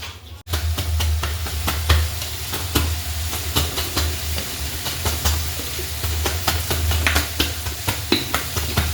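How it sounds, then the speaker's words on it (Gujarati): Kathiyawadi brinjal oro being tempered in hot oil on the stove, with a steady sizzle and crackle and scattered sharp pops and stirring scrapes throughout, loud and close, no talking. "હવે ઓળો વઘારીશું."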